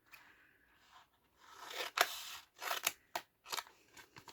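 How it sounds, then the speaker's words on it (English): Scissors snipping through washi tape for craft tags, a few crisp close-up cuts and rustles in a quiet room, with short separate snips toward the end. "so let's cut those off."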